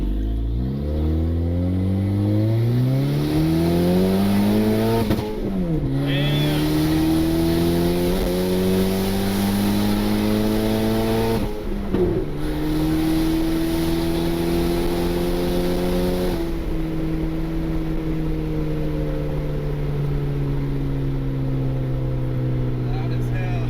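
A boosted Honda Civic with an R18 engine and an eBay turbo accelerates hard through several gears, its loud engine note climbing steadily and then dropping at each shift. The engine is recorded from close by, with brief voices over it.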